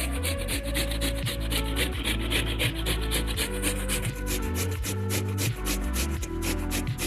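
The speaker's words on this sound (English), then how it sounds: "Grating the cassava." Cassava roots grated by hand for a Guyanese pone, giving a steady run of rough, repetitive scraping strokes, close and loud, with no talking.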